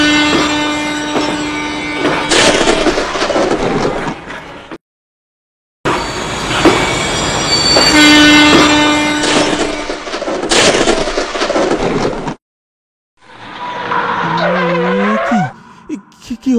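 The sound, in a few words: cartoon train running then braking to a stop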